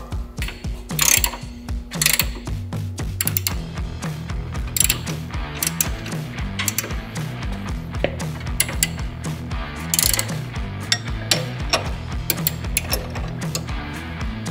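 Hand ratchet cranks down the shock bolts on a 2002–2023 Harley-Davidson touring motorcycle during a 2-inch lowering kit install with coil shocks, a steady run of close, loud clicking bursts lasting the whole stretch.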